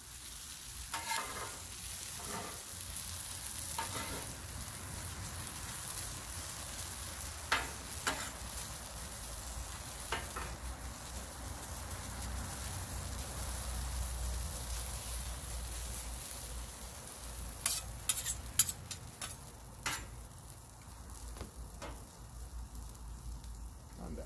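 Hash browns sizzle steadily on a Blackstone flat-top griddle, with scattered spatula taps and scrapes over the continuous frying hiss and no talking.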